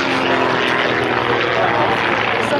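Propeller warplanes painted with red stars stage mock ground attacks at a tank show, the engine roar loud and steady throughout, a dense continuous drone close overhead.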